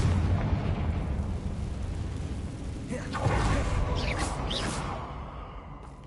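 A Confringo blast spell in the Hogwarts wizarding game sets off a heavy rumbling explosion with a whooshing burst over steady background battle noise, while a voice speaks faintly over it.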